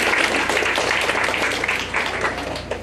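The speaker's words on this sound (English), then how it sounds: "let's give them a round of applause" Audience at a student writing celebration gives a steady round of applause, dense and even throughout, without voices.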